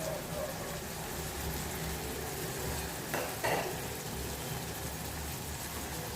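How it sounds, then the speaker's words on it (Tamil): Spring onion greens sautéing in a pan for a Tamil tamarind kulambu, a steady, dense sizzling hiss that runs throughout, with a brief louder stir or scrape midway. "நல்லா வதங்கி வரட்டும் பாருங்கள் வெங்காயத்தால்"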